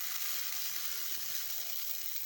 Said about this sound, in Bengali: আলুটা একটু ভালো করে ভেজে নিতে হবে